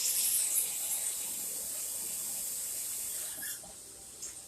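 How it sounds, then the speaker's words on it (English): Tap water pours steadily into a cooking pot while making macaroni and cheese, a continuous hissing spray that holds for about three and a half seconds and then tapers off. "And let's get a little more water in there."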